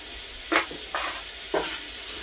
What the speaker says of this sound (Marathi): आणि उलटण्याच्या सहाय्याने व्यवस्थित एकजीव करून घ्यायचं.